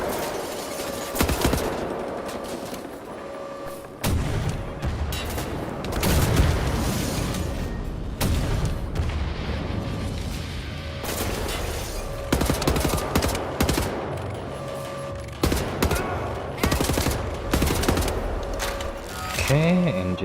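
A mounted machine gun in Wolfenstein: The New Order fires in rapid, loud bursts, mixed with heavy booms and explosions, in sustained chaotic combat with brief pauses between volleys.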